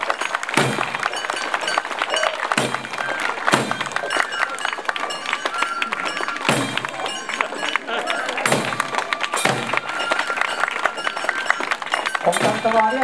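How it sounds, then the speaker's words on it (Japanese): A crowd at the Enshu Dainenbutsu festival in a Japanese park applauds, with continuous clapping throughout and scattered louder bursts, as festival sounds and voices carry on in the background. "皆さんもう一度盛大な拍手でお送りいただきたいと思います。"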